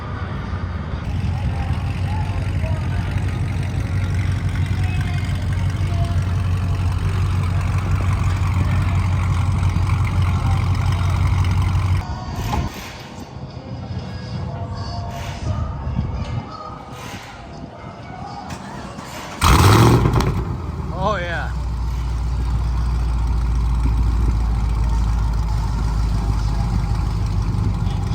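A 2009 Dodge Charger SRT's engine idles steadily, drops away, then fires up with a sudden loud roar before settling back into a deep, rumbling idle; a voice speaks briefly.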